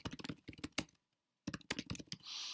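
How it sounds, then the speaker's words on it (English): Fingers type a short message on a computer keyboard, rapid close clicks in two bursts separated by a brief pause, ending in a soft hiss; no voices. "you type in a little message that can only be a maximum of 140 characters"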